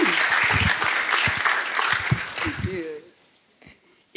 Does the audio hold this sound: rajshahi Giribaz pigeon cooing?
no